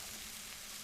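Steak sizzles and fries in a hot pan, a steady close hiss that fills the short moment with no voices.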